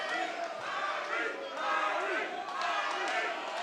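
A crowd at a professional light welterweight kickboxing fight keeps up a steady, dense roar of shouting and cheering voices, swelling and dipping in waves throughout.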